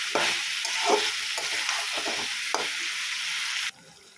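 Chicken being stirred in a hot pan with ground cumin, ground coriander and chicken masala, a close, loud sizzle broken by repeated spatula scrapes, cutting off abruptly near the end, with no speech.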